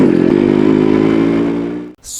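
A Yamaha RX 100, a 100 cc two-stroke motorcycle, runs loud and steady with a buzzing, harmonic-rich engine note for about two seconds, then cuts off abruptly into near silence with a brief hiss.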